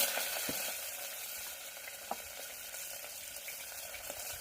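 Mustard seeds and urad dal fry in hot oil with a bright, dense sizzle and scattered crackles and pops, close and steady throughout with no voices.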